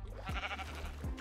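Sheep bleating in a Minecraft survival game, with a few short, wavering bleats close by and overlapping each other.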